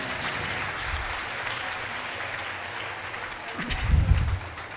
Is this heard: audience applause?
yes